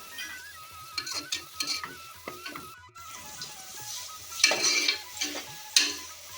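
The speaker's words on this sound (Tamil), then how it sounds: "வெங்காயம் நல்லா இந்த அளவுக்கு நல்ல வாசனை வர வரைக்கும் நல்லா ஃப்ரை பண்ணணும்" Onions and broken cashews fry in hot oil for Mughal-style chicken biryani, a close sizzle broken by scraping stirs of a spoon in the pan. The stirs come in short irregular bursts with no talk.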